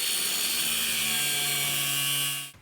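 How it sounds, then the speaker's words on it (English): An angle grinder fitted with a cutoff wheel slices through a front sway bar link on a 2006-2015 Honda Pilot, a steady high-pitched whine with a droning tone that holds loud and close, then stops abruptly near the end. "I'm gonna come in on the backside here with an angle grinder and a cutoff wheel"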